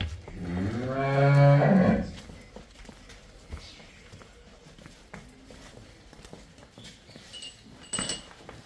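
A Jersey cross cow gives one loud, drawn-out moo up close, followed by quieter shuffling and faint rustling in the background.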